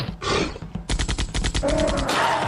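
Cartoon gunfire in an Italian Brainrot animation: loud, rapid bursts of shots fired in quick succession, with a short pause before a denser volley.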